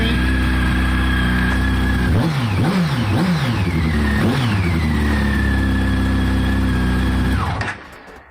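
A 2000 Kawasaki ZX12R motorcycle engine runs steadily at a loud, close idle, with three quick throttle blips rising and falling in pitch before it settles, then cuts off near the end.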